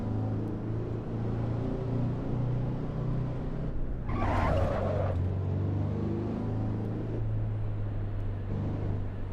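A Volvo S60R drives in the BeamNG driving simulator, its engine a steady low drone with a short brighter rumble midway, loud and continuous with no talk.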